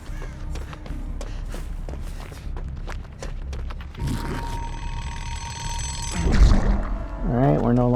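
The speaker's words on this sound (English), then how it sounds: "Need the alarm clock to wake up." A ringing alarm clock in the video game Dead by Daylight, heard as a sustained tonal ring from about four to six seconds over busy game effects and footsteps.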